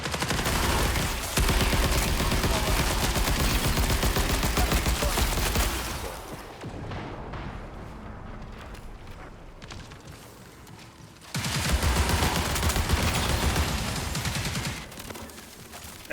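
Dense, sustained gunfire from the shooter game Marathon rattles in continuous bursts, fades briefly to a quieter stretch, then surges back loud again.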